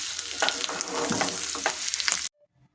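Beetroot chutney is stirred in a hot pan, a close, busy sizzle with scraping spoon strokes for about two seconds before cutting off to near silence.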